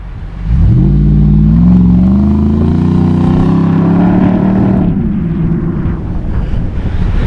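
A Nissan Patrol Y62 in first gear strains for traction, its engine droning loud and close with a rising then steady tone for several seconds before easing off into rougher noise.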